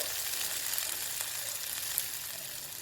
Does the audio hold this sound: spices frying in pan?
yes